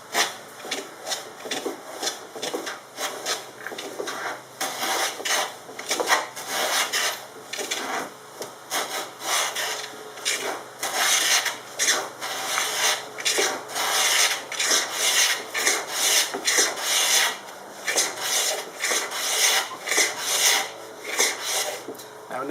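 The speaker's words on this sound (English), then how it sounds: "pushing the plane tight against the wood this way so that your fence on the bottom rides along the edge of the wood" A hand plane cuts a custom cove molding along a wooden board, with its bottom fence riding the board's edge. The near, rhythmic rasping strokes repeat steadily with no voices.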